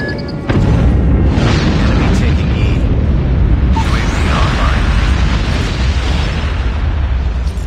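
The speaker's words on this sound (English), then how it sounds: "Enemy airstrike incoming." Enemy airstrike explosions in Call of Duty Mobile, a loud sustained rumble of booming blasts with a heavy low end that carries on almost without a break.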